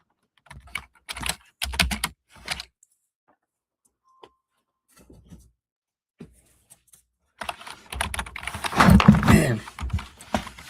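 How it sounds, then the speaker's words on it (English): Someone types on a computer keyboard in short bursts of clicking keystrokes separated by pauses, close up, ending in a denser, louder flurry of typing with some faint background noise. "Man, I'm not used to typing on this keyboard"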